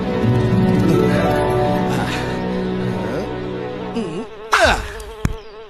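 Bees buzz around honey in an animated outdoor scene, a close, loud drone with wavering pitch and a few sharp swoops as insects pass near, ending in a brief clatter.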